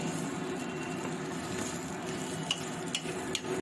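Rice with vegetables for chicken and veg pulao fries in a pan, a steady, fairly quiet sizzle with occasional clinks and scrapes of stirring toward the end.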